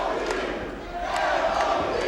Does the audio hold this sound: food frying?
no